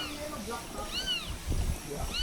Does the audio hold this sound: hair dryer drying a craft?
no